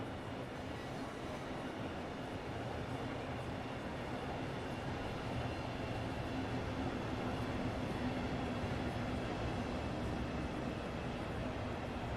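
Train rumble from the Train Sim World 3 game, a steady, dense rolling drone that swells slightly as the train draws closer, with no voices over it.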